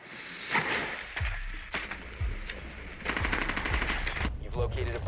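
Gunfire in the video game Metal Gear Solid, repeated sharp bursts and rapid automatic shots, loud and near, mixed with game sounds and some voice.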